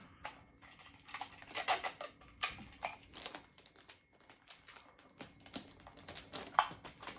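Clear adhesive tape pulled off a roll and pressed onto wrapping paper around a Christmas gift, with irregular crackly tearing and crinkling bursts up close, no talking.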